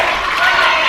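Crowd at a live sporting event roaring and cheering for the competitor Billy Buck, a dense, steady wash of massed voices filling the hall, loud and unbroken throughout the short moment.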